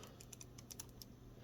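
A loose wheel inside a Star Trek Strange New Worlds phaser prop clicking and rattling, a rapid run of faint, light ticks close by over a soft background hiss.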